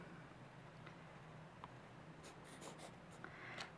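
Pen or marker writing on Post-it notes while making dice-based addition cards, a quiet close scratching with short strokes and taps, no talking.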